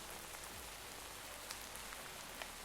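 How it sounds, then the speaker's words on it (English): Steady rain falls in the video game Minecraft, played with the MC Eternal modpack, a soft, even hiss of drops on surfaces with a few faint individual patters and no voices. "My goodness, why is it always raining?"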